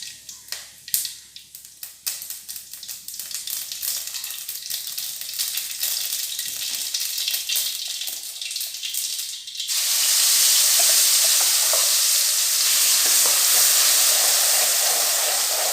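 Mustard seeds sizzling in hot oil for tomato chutney, a close steady hiss with scattered crackles and pops that swells into a louder, denser sizzle partway through, with no talking.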